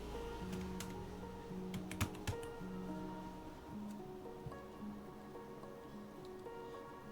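Text for an HTML page being typed on a computer keyboard: scattered soft key clicks, a few sharper taps clustered early, quiet and close over a faint background hum, with no speech.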